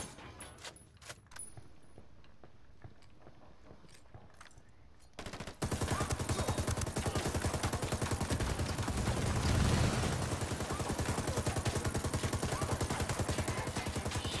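Sustained suppression gunfire in the video game Ghost Recon Wildlands erupts after a few sparse clicks and scattered shots, becoming a loud, unbroken automatic roar that runs to the end.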